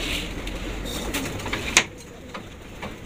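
Domestic pigeons coo softly in a loft amid background hiss, with a brief sharp clatter midway through the short stretch.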